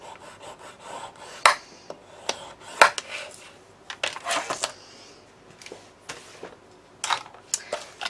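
Paper hinge strips are scored with a scoring tool on a board, a series of short scraping strokes and taps with gaps between them, close and fairly quiet.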